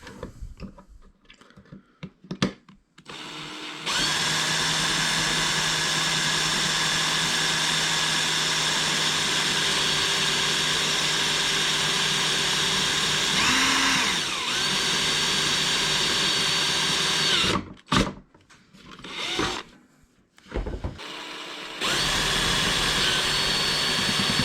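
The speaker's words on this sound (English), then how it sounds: "I might drill a pilot hole here," A loud, steady drill whine, driving screws into wood, runs unbroken for about fourteen seconds, with brief quieter gaps and shorter bursts near the start and end.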